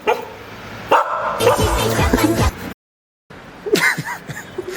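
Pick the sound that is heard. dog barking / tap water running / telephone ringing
dog barking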